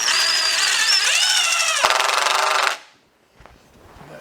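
A power drill drives a 1.25 inch screw into a table, its motor whirring loudly with a rising then dropping pitch for under three seconds before cutting off, followed by faint handling knocks.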